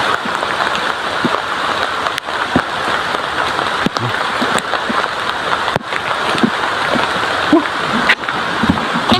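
Heavy rain pours down in a loud, unbroken roar, with scattered sharper drops and splashes knocking through the steady downpour close by.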